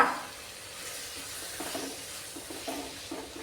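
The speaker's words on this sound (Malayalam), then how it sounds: "സവാള അതിലേക്ക് ഇട്ടിട്ടുണ്ട്. നമുക്കൊന്ന് വഴറ്റി കൊടുക്കാവുന്നതാണ്." Three medium onions sautéing in a pan for an egg curry, giving a steady close sizzle with soft stirring scrapes and light utensil taps, no voices.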